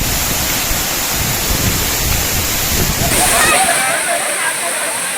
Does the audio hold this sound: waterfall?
yes